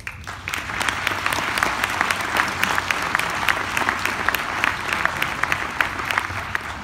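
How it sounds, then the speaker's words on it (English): Crowd applause at a Veterans Day ceremony greets a returning National Guard lieutenant colonel, a steady, moderately distant patter of many hands with individual claps popping through the wash. "I'm not going to hold that applause until I'm done."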